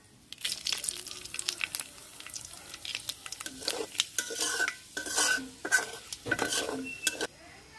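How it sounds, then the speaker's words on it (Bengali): Bay leaf, fennel and fenugreek fry in hot oil, a soft sizzle under repeated metal clinks and scrapes of a spoon stirring the pan, close and irregular. "ফোড়নটা হালকা ভেজে নিয়েছি,"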